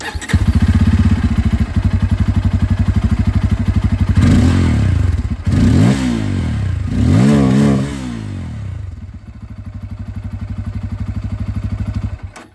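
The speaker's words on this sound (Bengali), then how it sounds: "এই ডুয়াল ব্যারেল এক্সস্ট আছে। আওয়াজটা আপনাদেরকে এখানে একবার শুনিয়ে দিই আমি।" A 2025 Bajaj Pulsar N250 motorcycle with a dual-barrel exhaust idles with a loud, throbbing beat, then revs sharply several times in quick bursts before settling back to a steady idle.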